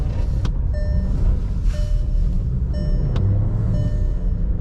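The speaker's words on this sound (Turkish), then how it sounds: "Sesi duyuyorsunuz araba bayağı patiye düşüyor." A SEAT Ibiza's engine revs and drones close by with a low rumble as its wheels on Nokian winter tyres spin on snow, while a few short beeping tones sound now and then.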